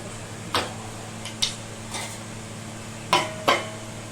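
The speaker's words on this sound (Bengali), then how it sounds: "আমি এবার ঢাকনাটা তুলে মাংসটা একটু নেড়ে নিই" A cooking pot lid comes off and a spoon stirs mutton for mutton do pyaza, giving five sparse metallic clinks and taps over a quiet, steady hum.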